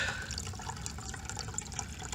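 Spring water running steadily out of a pipe in the ground along a hiking trail, a faint continuous trickle and splash with a few small drips, heard up close.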